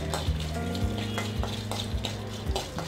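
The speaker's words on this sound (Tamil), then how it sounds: "வத்தல் நல்லா பொரியணும்." Sun-dried vathal vegetables frying in sesame oil give a steady close sizzle with scattered crackles, and a low hum runs underneath.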